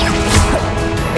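Confringo fire spell cast in combat in Hogwarts Legacy, a loud dense blast of crackling, whooshing game effects with a brief thudding hit partway through, filling the short stretch with no talk.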